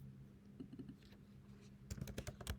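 Quick keystrokes on a computer keyboard while entering code, soft and close, a few light taps followed by a brisker run of clicks.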